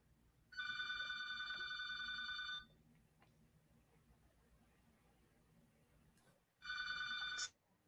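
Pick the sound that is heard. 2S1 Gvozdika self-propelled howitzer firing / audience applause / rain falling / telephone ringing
telephone ringing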